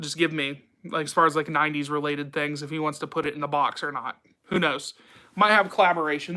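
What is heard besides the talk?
No everyday noise stands out behind the speech.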